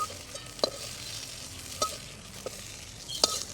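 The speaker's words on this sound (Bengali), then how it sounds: "তারপরে ঢ্যাঁড়সগুলো একটু হালকা করে ভেজে নেব" Okra fries lightly in mustard oil in a wok, a soft low sizzle with a few sharp stirring clinks and scrapes spaced irregularly, close by and quiet, no talking.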